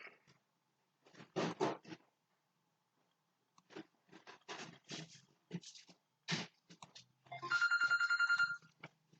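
A mobile phone ringtone rings near the end in a short repeating electronic pattern, following bursts of talk and chewing-like noises, moderately close.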